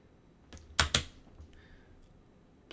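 A short burst of keyboard typing into an Apple II emulator, a few close, sharp key clicks with two louder strikes in quick succession, then quiet.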